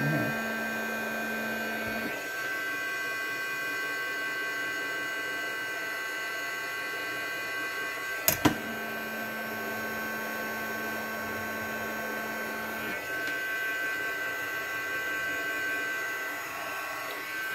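An embossing heat tool runs steadily to heat-set embossing powder on a dream catcher craft piece, a constant whirring blower drone with a faint hum that stops briefly and a sharp click midway.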